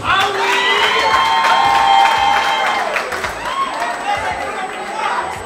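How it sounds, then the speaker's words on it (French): An audience at a celebration cheering and whooping with scattered applause, a lively crowd roar with high shouts that rises, then eases. "Je vous demande de l'applaudir."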